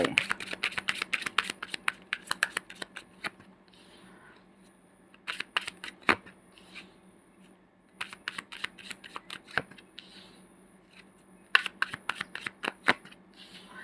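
Tarot cards are shuffled by hand up close in bursts of quick riffling flicks and slaps, separated by short pauses and soft handling sounds, with no voices.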